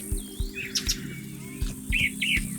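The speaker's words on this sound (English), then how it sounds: "Even the birds think so. Listen to the song they sing." Birds sing in Alabama cotton fields, with bright chirps and short warbling phrases repeated over a low rhythmic pulsing background, moderately near.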